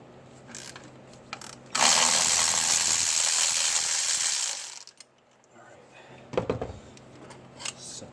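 A socket ratchet clicks steadily in a long, close burst while undoing a water pump bolt on a 2006 Dodge Ram 5.7L, framed by a few short metallic clinks before and after.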